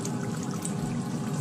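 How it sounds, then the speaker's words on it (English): A Nigerian chicken and beef stew with crayfish and nutmeg bubbles in a pot, a soft, steady simmer of small popping bursts, faint and continuous. "I can see all these bubbles"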